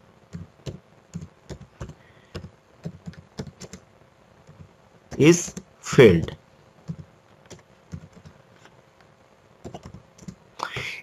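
Computer keyboard typing: scattered close key clicks in short bursts, with a voice speaking briefly in the middle.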